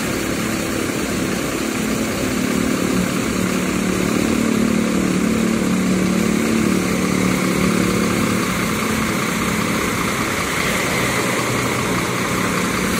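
A Mercedes-Benz OH 1526 bus chassis with an Adiputro Jetbus-style body runs its diesel engine at night, a steady smooth low rumble and hum holding close and even for the whole stretch with no talk.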